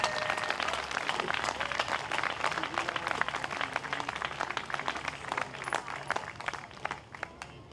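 A crowd at a live Extinction Rebellion festival event applauds steadily, dense clapping that stays loud and sustained the whole time with no voices over it.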